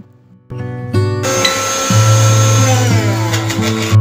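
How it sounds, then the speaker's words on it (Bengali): An electric blender starts up and whirs loudly as it mixes sugar, coffee and milk for cold coffee, its motor pitch stepping up in stages and then holding a steady, close whine. "সামান্য চিনি, কফি আর সামান্য দুধ দিয়ে এটাকে একটুখানি ব্লেন্ড করে নিচ্ছি"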